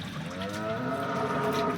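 A single drawn-out, low moo from a local Banaskantha cow, close and fairly loud, lasting nearly two seconds with no talking.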